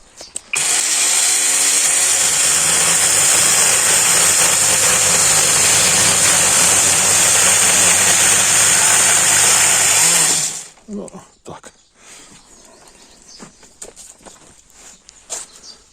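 An electric trimmer's pole saw attachment whines steadily at high speed for about ten seconds while cutting a branch, then cuts out, leaving scattered rustling and knocks.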